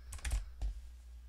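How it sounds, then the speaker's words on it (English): Mechanical keyboard keys clack in a quick burst of three or four presses followed by one more, close and fairly quiet, with no talk. "Mechanical keyboard."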